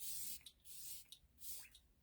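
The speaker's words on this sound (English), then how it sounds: "you can always take a spray, rose water preferably" A rose water face mist spritzed several times onto skin, each short hissing spray burst soft and close, with brief pauses between them.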